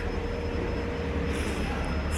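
Rumbling interior of a train in Japan, a steady broadband roar with low rail hum and a faint high whine running throughout, no voices.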